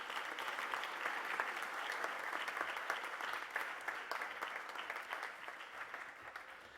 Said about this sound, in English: So let's give a big round of applause to Mr. Butcher.